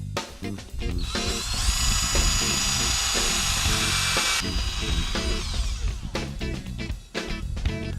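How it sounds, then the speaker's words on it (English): A power drill with a 3/8 inch bit whines steadily as it bores through a control assembly, with a sustained high-pitched grind in the middle and shorter bursts around it. "Drill the control assembly using a 3/8 inch drill bit."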